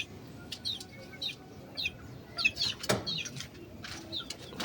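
Chicks and chickens in a coop chirp and flutter in short bursts, with soft wing flaps and scattered tweets over a quiet, low background hum.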